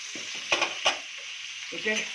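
Chunks of potato and pumpkin with turmeric sizzle in a pan under a steady hiss, as a spoon stirs and scrapes through them in a few short bursts, close by with no talking.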